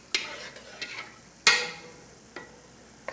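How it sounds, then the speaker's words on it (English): Roux being stirred into a pot, with a few distinct spoon clinks and scrapes against the pot, one louder knock in the middle, close by and with no talk. "Now I'm gonna put this in there, all of this roux, and stir it as I put it in there"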